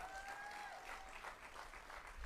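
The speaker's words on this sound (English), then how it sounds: "Give Saddam a round of applause." Crowd applause at a UNC political meeting in Barataria, Trinidad, a steady wash of clapping filling the room, fairly quiet and even throughout, with a faint tone trailing through the first half.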